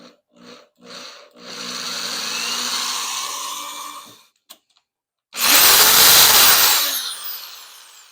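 A power drill with a small bit whirs steadily for a few seconds starting a hole, pauses, then bores in again louder and harsher, close by, with short bursts at the start.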